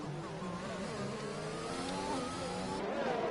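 Race car engines whine through the Monaco GP in a racing video game, several high-pitched motors droning together at a steady level and shifting in pitch as the cars run on.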